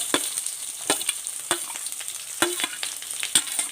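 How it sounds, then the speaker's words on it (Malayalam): Long-sliced onion and a sprig of curry leaves fry for pulao, a steady close sizzle broken by repeated sharp spatter bursts and stirring clicks, no voices. "ഇതിലേക്ക് ഒരു സവാള നീളത്തിൽ അരിഞ്ഞത് ഇട്ട് കൊടുക്കാം"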